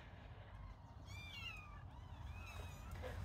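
A small kitten mews with a few thin, high meows, one drawn out and then shorter calls, fairly close against a soft background rumble.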